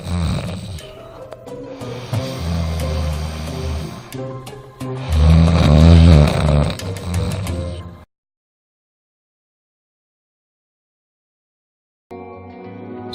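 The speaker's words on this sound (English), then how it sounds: "This causes vibrations, which we hear as snoring." A sleeping person snores loudly in deep, rattling breaths: two long rasping snores fill the first eight seconds. A few seconds of silence follow, then another snore begins at the end, with no talking.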